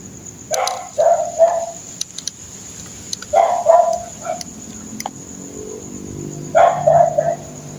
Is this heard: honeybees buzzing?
no